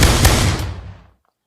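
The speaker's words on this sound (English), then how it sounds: "rapid fire" A single loud pistol shot rings out in the VR shooter game Pavlov Shack, a sharp close blast trailing off into a short decaying echo about a second long.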